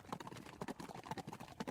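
Horse hooves clip-clop in a steady, fast rhythm of close, crisp hits throughout, suggesting racing horses at speed over ground, with no voices.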